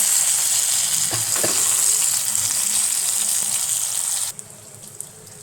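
Brinjal slices sizzle steadily in hot oil in a pan, a loud continuous frying hiss with a few scraping clicks as the pieces are turned, then the sizzle drops suddenly to a quieter level near the end.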